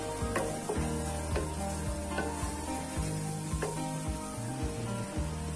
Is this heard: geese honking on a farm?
no